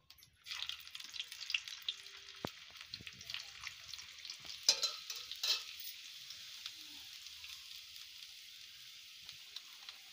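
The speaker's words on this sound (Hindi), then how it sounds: "तो हम लहसुन डालते हैं। और ये लहसुन हमने काट कर रखा था।" Chopped garlic sizzles in hot oil with cumin for a suran (elephant foot yam) curry, a steady bright frying hiss with a few clinks of a utensil against the pan.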